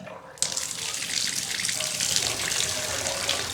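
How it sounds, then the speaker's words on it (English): Hot tap on a UK domestic hot water system turned on, water gushing steadily into a sink after a brief quiet moment, a continuous splashing stream heard close. "When the tap is turned on"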